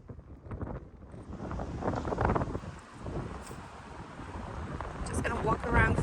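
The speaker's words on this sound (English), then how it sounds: "This is super windy." Strong outdoor wind buffets the microphone in Southampton, a steady low roar with gusts, near a cruise ship terminal by the water.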